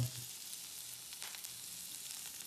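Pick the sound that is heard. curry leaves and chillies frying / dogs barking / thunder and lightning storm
curry leaves and chillies frying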